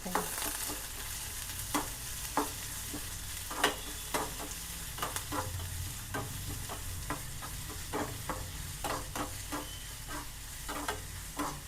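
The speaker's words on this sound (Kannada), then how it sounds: "ಲೋ ಫ್ಲೇಮಲ್ಲೇ ಫ್ರೈ ಮಾಡಿ ಇದು" Masala frying on a low flame, a soft continuous sizzle broken by regular stirring scrapes and clicks of a spoon against the pan, fairly faint and close.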